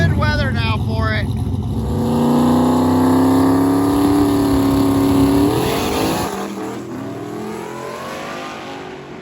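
A twin-turbo LS-powered Camaro, running without a radiator, launches on a drag strip at a Carolina drag event, its engine roaring loudly through rising gear pulls before fading as it speeds off; voices are heard alongside.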